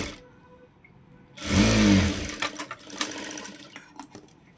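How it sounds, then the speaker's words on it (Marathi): Domestic sewing machine stitching a folded-in seam on a princess-cut blouse, a loud whirring burst of about one second followed by lighter clicks and fabric handling nearby. "तर ह्या साईडनं असं फोल्ड करून घेऊया, शिलाई मारून घेऊ."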